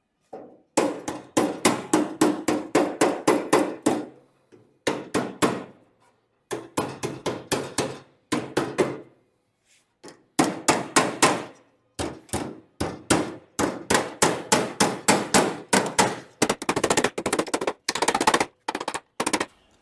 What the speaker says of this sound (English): Now, let me whoop on it with a hammer.